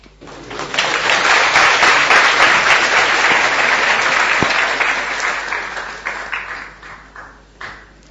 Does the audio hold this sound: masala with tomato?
no